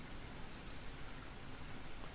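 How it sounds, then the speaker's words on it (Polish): Soft, steady rain patters against window panes, a faint continuous hiss with no distinct individual drops and no voices. "Deszczyk stuka o szyby."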